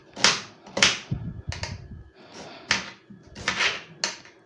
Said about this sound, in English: Lastly, I'll cut the onions.